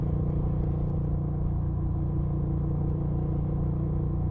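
An 850cc air-cooled V-twin on a 2025 Moto Guzzi V7 Sport motorcycle rumbles steadily at mid revs, a loud, close, throbbing low engine note with even pulses and no voices.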